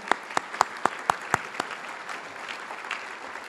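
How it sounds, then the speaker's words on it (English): A breakfast audience at an economic forecast event gives sparse applause for a sponsoring community bank, with about seven distinct, evenly spaced sharp claps up front, then softer scattered clapping trailing off. "Can we have a round of applause for Riverview?"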